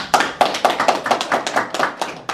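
Audience clapping for Professor Oh Sang-cheol at a Jeonbuk–Jeju exchange academic seminar on Kim Gu: a short burst of about ten distinct, evenly spaced claps, fairly close and clear, with no voices over them.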